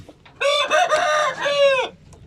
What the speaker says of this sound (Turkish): Gerçekten tepeden tırnağa Hint horozu.